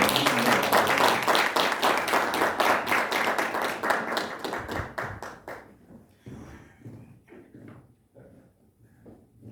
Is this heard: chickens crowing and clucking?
no